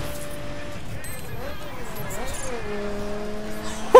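Race car engines whine and tires squeal during a LaFerrari race in the video game The Crew Wild Run, a steady mix of revving motors with shifting pitch sweeps, held at a constant level under background game noise.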